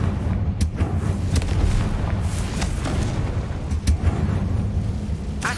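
A Confringo spell blast in a video game produces rumbling, continuous booming with sharp explosive bursts scattered throughout, loud and full. No voices are heard.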